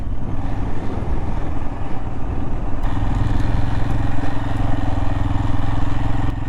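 A motorcycle ridden through the desert gives a loud, continuous engine drone with steady rumble and rattling clatter, close to the microphone throughout.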